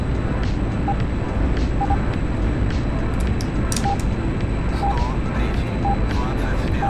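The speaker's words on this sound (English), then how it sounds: "It's a really messy takeoff" A jet aircraft taking off in the DCS flight simulator, a loud, steady engine roar and rushing wind filling the whole stretch without letting up, with brief faint radio-like beeps and chirps over it.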